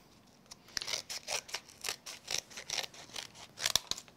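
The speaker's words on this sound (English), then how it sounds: "Come in with my scissors." Scissors snip through paper in a series of crisp, close cuts, roughly ten quick rhythmic snips at a crafting table, fairly quiet with no talk.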